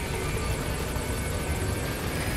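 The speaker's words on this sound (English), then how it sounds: "Okay, let's call in the chopper" A helicopter in Metal Gear Solid 5 arrives with a loud, continuous rotor and engine roar that fills the scene without pause.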